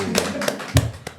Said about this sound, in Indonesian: Tepuk tangan lu buat Deborah.